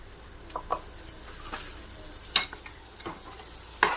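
A spoon stirs chickpea and potato gravy in a cooking pot, giving a few scraping, clinking strokes spread across the moment over a soft sizzling bed, near and fairly quiet.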